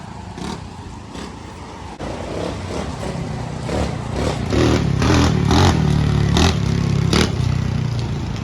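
A 125cc XPRO pit bike engine runs under a rider still learning the clutch, a steady motor drone with uneven surges and clattering bursts that grow louder in the second half.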